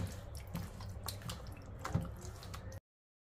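Water runs steadily from a tap while rice is rinsed in a bowl, a close, continuous splashing wash with small spikes of agitation and no talking.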